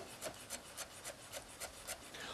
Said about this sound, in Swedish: vi samlar ihop dillen och så skär vi den och inte hackar.